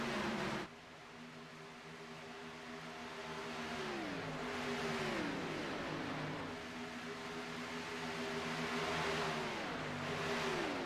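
A stock car rolls off pit lane at Talladega in a NASCAR-style racing video game, its engine holding a steady harmonic drone with several rising and falling pitch sweeps as it shifts and accelerates, loud and continuous with no talk.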